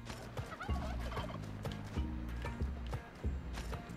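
A turkey in the video game Spelunky 2 gobbles in rapid repeated bursts over game music with a thumping beat and assorted in-game clatter.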